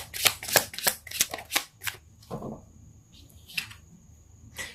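Tarot deck shuffled close up in a quiet room. A quick run of crisp riffling snaps is followed by softer sliding and a few scattered card clicks.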